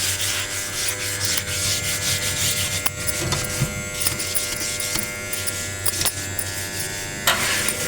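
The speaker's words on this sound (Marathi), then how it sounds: "मशीन खूप म्हणजे खूप घासून काढायला लागते तर चाललंय आहे माझं क्लिनिंग" A machine is scrubbed clean after making basundi, giving a continuous harsh close-up rubbing and scraping sound with occasional sharper knocks, and no talking.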